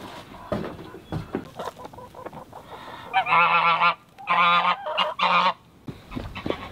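Icelandic chickens squawk loudly in several harsh, honking bursts close by, with quieter clucks and rustling between calls.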